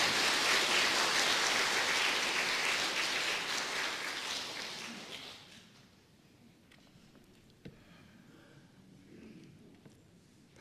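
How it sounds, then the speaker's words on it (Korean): A church congregation at a Sunday service in a Baptist church claps to welcome the preacher: a dense, loud wash of applause that holds for about five seconds, then fades into a quiet room with a few scattered sounds. "큰 박수로 환영해 주시면 감사하겠습니다"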